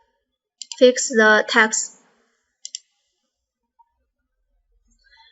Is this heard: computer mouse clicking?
yes